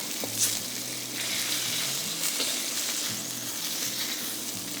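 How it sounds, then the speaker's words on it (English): Salt and pepper pork chops fry in a pan, a loud, constant close sizzle and crackle that holds steady throughout with faint pops and no voices. "Leave the pork alone and let it fry till the bottom turns golden brown."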